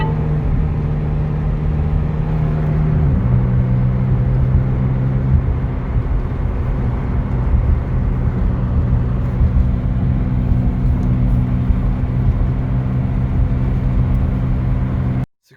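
A car engine drones steadily while driving, a loud continuous low rumble with road noise and a brief pitch shift near the start, running throughout with no talk until it cuts off at the end.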